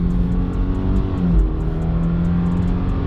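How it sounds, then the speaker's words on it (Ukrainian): A 2023 Subaru Forester Limited with a 2.5 engine and automatic transmission accelerates from standstill toward 100 km/h, a steady loud engine drone heard from inside the cabin, with a gear shift partway through. "Ми зараз спробуємо розгін від 0 до сотні."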